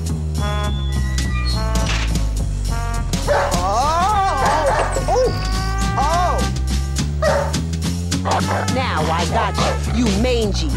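Cartoon-style dog barks, yips and whimpers in a dense, busy mix with music and voices, repeated short yelps scattered across the stretch and people talking throughout.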